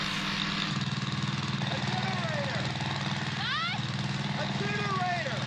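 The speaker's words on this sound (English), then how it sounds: "Oh, it's a generator running, okay." A steady engine drone runs continuously in the foreground, like a generator, with chirping birds above it and some faint voices nearby.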